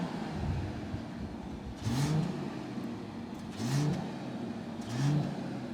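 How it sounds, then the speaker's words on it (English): A 2024 Mercedes E-Class base six-cylinder engine revs in three short rising blips about every one and a half seconds over a steady idle hum, heard from close by with no talking. "At this point I have to mention it's a base car, it's a 6-cylinder. The sound is pretty nice, pretty okay."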